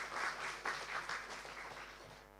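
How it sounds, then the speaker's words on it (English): A panel-discussion audience claps for the speakers and moderator, a faint, soft patter of several hands heard from a distance, thinning out toward the end. "please once again give them a round of applause."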